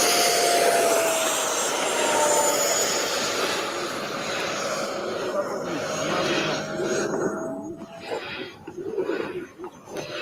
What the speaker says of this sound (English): Ricky on the F-18, Oscar on the F-16